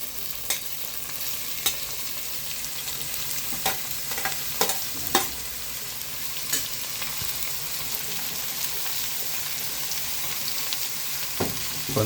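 Steady crackling sizzle of radish, egg and spring onions frying in a pan, with scattered scraping clinks as they are stirred, continuous and fairly close.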